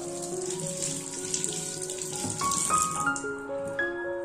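Water runs steadily from a tap as chillies are washed in a small home kitchen, a close, continuous splashing flow with faint clinks, and no one speaks.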